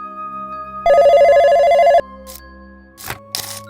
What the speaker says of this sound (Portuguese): quando o telefone tocou